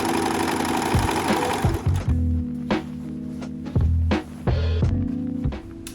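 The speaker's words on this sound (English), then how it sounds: "Sew the lower part of the facing with a lock stitch." A sewing machine lock-stitches the lower part of a skirt facing in short, loud whirring bursts, starting and stopping several times with brief pauses between runs.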